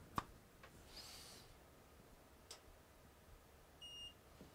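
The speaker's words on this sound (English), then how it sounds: "We have a beep." A short electronic beep sounds near the end, thin and high with a couple of harmonic tones, after a few faint clicks in a quiet room, from an Artillery Genius 3D printer powering on.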